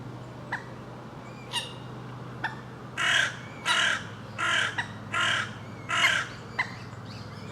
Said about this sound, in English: quite an amazing squawking going on here.